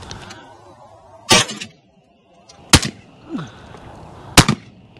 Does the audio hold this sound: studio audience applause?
no